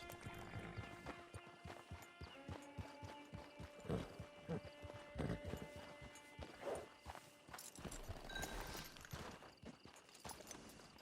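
Horse hooves clip-clopping on a path in Red Dead Redemption 2, a steady walking rhythm of soft thuds with a faint snort, set in a quiet outdoor game scene at low volume.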